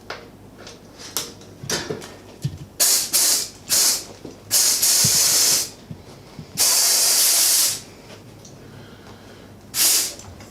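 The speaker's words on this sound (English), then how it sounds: "I'm going to reinsert the valve core and inflate the tyre" A tubeless bike tyre is pumped up after its valve core is reinserted, producing repeated sharp bursts of air hiss. Several are short, and two run about a second or more, with quiet gaps between them.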